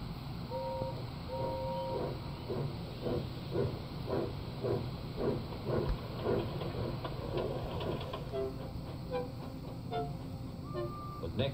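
A steam train chugs along steadily with rhythmic puffs and faint hissing, a few short whistle-like tones sounding near the start and end.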